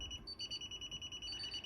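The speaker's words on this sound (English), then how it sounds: "this keypad will also beep when the ATM is arming" A security alarm keypad beeps as the ATM partition arms: a quiet, steady high-pitched electronic tone pulses rapidly over a faint hum of room noise, with no talking.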